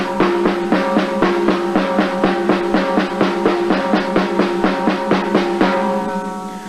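Drum double stroke roll at a quick, even tempo, played as a beginning rock drum demonstration: a steady stream of paired strokes repeating loud and close for several seconds, with no talking.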